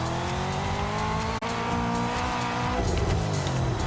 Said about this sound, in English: Trying to use the handbrake sparingly, but helps me get around some of these tighter turns.